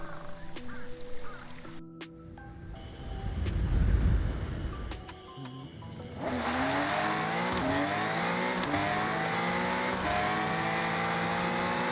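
A sports car in the racing game Forza Horizon 6, Italian exotics class, pulls away from a standstill: a brief rev and rumble, then a steady loud engine climbing through the gears with rising pitch.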